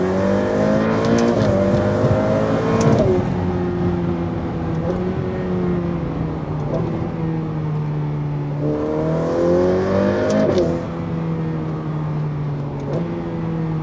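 A Ferrari F8 Tributo with a 7-speed dual-clutch gearbox, in race mode, repeatedly revs up and drops gears, its loud engine note climbing then stepping down with crisp shift blips, heard close throughout.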